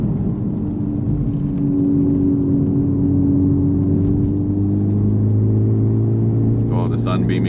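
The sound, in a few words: Honda Civic Type R FL5 driving on mountain roads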